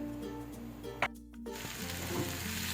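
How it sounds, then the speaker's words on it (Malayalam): Sliced onions cooking in a covered pan, giving a steady close sizzle with a brief bump and a short dip partway through before the frying noise resumes evenly. "പാത്രം അടച്ചു വെച്ചിട്ട് നമ്മുടെ ഈ ഒരു സവോളയ്ക്ക് നന്നായിട്ടൊന്ന് കുക്കാകുന്നവരെ നമുക്കൊന്ന് വെയിറ്റ് ചെയ്യാം"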